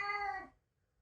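A pet cat meows once at home, a single loud, drawn-out cry close by that falls in pitch and cuts off, followed by quiet.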